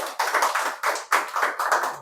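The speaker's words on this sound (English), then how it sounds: "Clapping for him." A small audience applauds a speaker at a public speaking session, with three short bursts of close, brisk clapping in quick succession and no voices.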